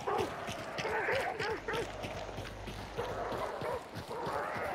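Several dogs bark and yip repeatedly in the Hunt: Showdown video game, close and fairly loud over a busy background, with short overlapping bursts throughout.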